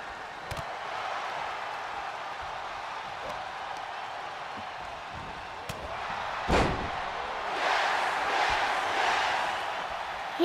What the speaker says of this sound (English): Hear how loud the crowd are.